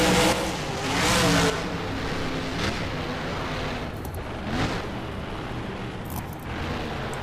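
Monster truck Thunder 4x4 in the BeamNG driving game roars past at a freestyle event, its engine note swelling and fading in steady surges, loud and fairly close, with no talk over it.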